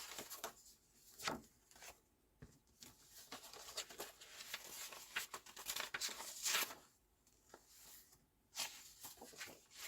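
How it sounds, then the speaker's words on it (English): Loose bits of paper rustle and shuffle in irregular bursts of crisp, papery scraping and flicking, fairly close, with brief pauses between handfuls. "I'm shuffling my bits of paper here."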